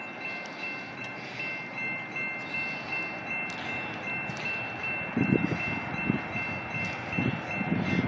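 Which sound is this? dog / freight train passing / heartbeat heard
freight train passing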